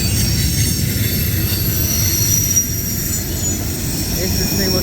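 A long CSX mixed freight train rolls past at Point of Rocks, Maryland, loud and close, with a steady roar of wheels on rail and high metallic squealing running through the whole stretch.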